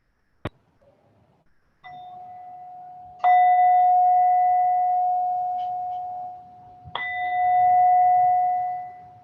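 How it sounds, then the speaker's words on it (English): Meditation bell in a quiet mindfulness session, struck three times with clear ringing tones that hang and slowly decay, preceded by a faint tap, alone in near silence. "with the sound of the bell, we come to the end of the meditation"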